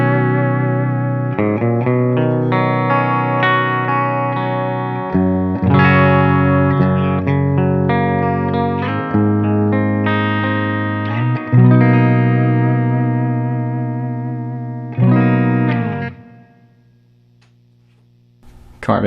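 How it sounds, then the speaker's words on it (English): Clean electric guitar tone from a PRS CE22 through a Mesa Boogie Mark IV, played with a Dunlop Gator pick: a series of plucked notes and chords, loud and up close, ringing out and fading near the end. "starting with the Gator here on a clean setting on the Mark IV"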